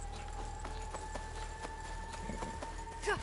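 Horse hooves clip-clopping in a video game, a steady rhythmic trot drawing nearer, faint under game ambience with a brief snort or whinny at the end.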